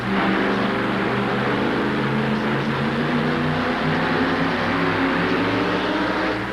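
A modified four-wheel-drive pulling truck engine idles and revs loudly up close, a dense steady roar with a low throbbing rumble throughout.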